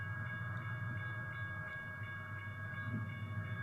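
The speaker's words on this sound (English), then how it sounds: "what you can actually hear is the head end of the BNSF train that's going westbound across the diamond" The head end of a BNSF train crossing a diamond westbound rumbles steadily in the distance, a continuous low roar with faint rhythmic clacks and a sustained tonal hum above, no voices.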